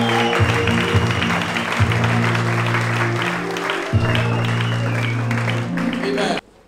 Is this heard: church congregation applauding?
yes